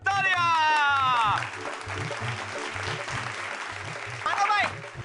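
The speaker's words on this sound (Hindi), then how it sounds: "चलो जी, जोरदार स्वागत कीजिए हमारे आदर्श जजेस का। तालियां।" A studio audience bursts into applause to welcome the judges of an Indian TV comedy show, a steady clapping wash heard from the start, with loud music and a host's voice riding over it.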